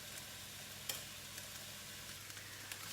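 Onions and celery fry in a pan for a squash and black bean chilli, giving a soft, steady sizzling hiss with a few faint ticks and no voices.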